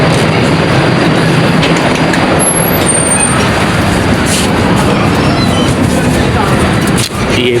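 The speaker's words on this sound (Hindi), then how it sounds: "ट्रेन आ गई है" A train arriving at a busy station, a loud, continuous rumble and clatter of wheels and carriages with hissing brakes, close and dominant, with faint voices mixed in.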